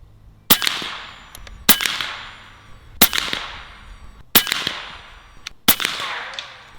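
Five sharp, loud cracks from an AEA HP MAX 357 air rifle firing pellets at a target, evenly spaced about a second apart, each with a short fading tail and no talk.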